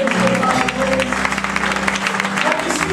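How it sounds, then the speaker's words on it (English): A church congregation claps hands together in praise, a continuous dense crowd applause with music and voices mixed underneath throughout. "Clap your hands, everybody."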